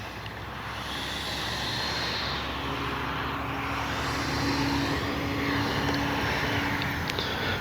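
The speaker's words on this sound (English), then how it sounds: "I love the way a dual 64 sounds." RC F-15 jet with twin 64mm electric ducted fans flying past, a steady loud whooshing whine that swells as it draws nearer, with no voices.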